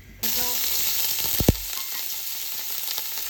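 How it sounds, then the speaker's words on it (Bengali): Shrimp fry in hot oil, a close, bright hiss of sizzling that starts suddenly and carries on steadily, with a small clatter of utensils partway through. "চিংড়ি ভাজার জন্য।"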